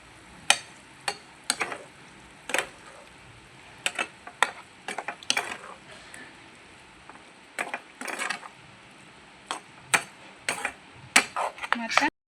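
A spoon scraping and clacking against a pan while prawn curry is stirred, a string of sharp irregular knocks and scrapes at close range, with a faint voice in the background at times.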